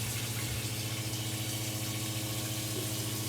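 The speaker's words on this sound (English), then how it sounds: "so the water's going in the tank" Electric water pump running steadily to fill a holding tank in a tiny house's closed water system, a constant low hum with faint flowing water, no voices.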